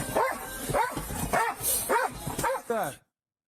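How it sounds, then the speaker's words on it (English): A police canine unit dog barks in a steady series of about six loud, sharp barks, evenly spaced and close to the microphone, with no speech over them. "There's a canine unit, Kaya."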